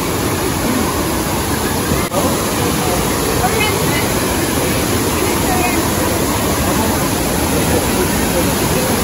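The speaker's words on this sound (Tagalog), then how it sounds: "Yan, maganda dito, overlooking sa falls." Bolinao Falls in Pangasinan sends up a loud, steady, unbroken rush of falling water, heard up close with a voice talking over it.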